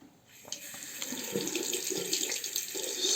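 Double-edged safety razor rinsed under a running tap, a steady close hiss of water splashing into a sink that grows slightly louder, with no talking.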